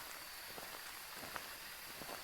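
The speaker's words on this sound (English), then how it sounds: "But of course it's raining." Rain in the horror video game Phasmophobia, a soft, steady patter of drops with faint scattered ticks, quiet and unbroken, no voices over it.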